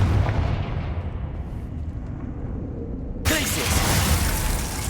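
Confringo, the fire blast spell from Hogwarts Legacy, erupts in roaring noisy bursts, loud and close, with a sudden bright crackling blast near the end.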